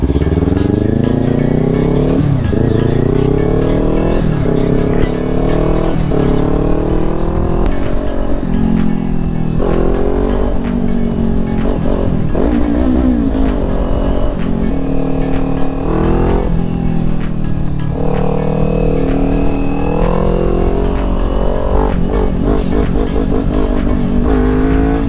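A Kawasaki Ninja 400 motorcycle runs loud and close, its engine rising and falling through repeated revs and gear changes while riding, with steady wind noise underneath.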